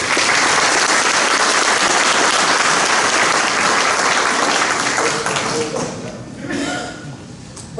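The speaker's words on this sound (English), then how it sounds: "Why don't we give these 2 candidates a round of applause?" Sustained, dense applause from an audience at a Harris County political forum, welcoming two candidates; it fills the room at full strength before thinning and tapering off toward the end.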